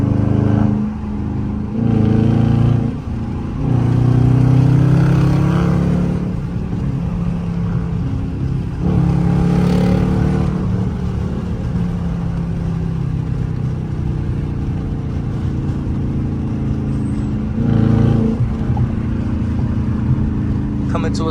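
Loud engine of a Dodge Charger RT with a hood scoop pulling on highway and city streets, a steady low drone with surges of revving, heard from inside the cabin with talk over it in places.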